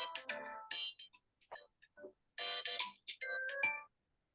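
A mobile phone ringtone goes off during a town meeting presentation, playing a bright electronic melody in several short bursts with pauses between them, fairly close and clear.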